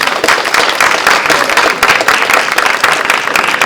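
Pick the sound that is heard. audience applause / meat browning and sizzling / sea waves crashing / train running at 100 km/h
audience applause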